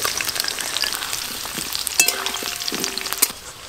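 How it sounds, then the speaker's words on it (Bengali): Potatoes sizzle and fry steadily in hot oil for a Bengali chicken kosha curry, a close, continuous crackle with a few sharper pops and faint clinks partway through. "আমি আলু দিয়েছি, এই যে এরকম লাল লাল করে ভেজে নিয়েছি, তুলে নেব।"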